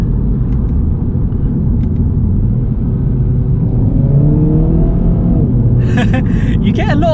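Mini Cooper S Resolute Edition driven on the road, a steady engine and road rumble with the pitch rising as it accelerates, someone talking over it and a brief high chirp near the end.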